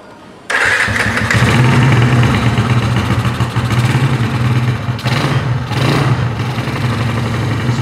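A cold motorcycle engine, Jokowi's bike in a workshop, cranks and catches after a brief quiet moment, then runs loud and close at a rough idle with an audible carburetor intake suck and slight throttle swells.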